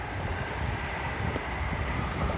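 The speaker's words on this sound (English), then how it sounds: "There's a train." A train passes on a line near Station Road, heard as a steady broadband rumble with faint periodic clacks, recorded outdoors during a walk.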